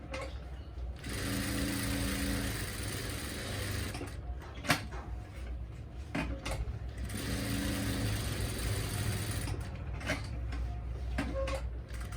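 A sewing machine stitches in straight-stitch bursts across a salwar hem design, each run a steady whir separated by brief pauses and small clicks, close and alone.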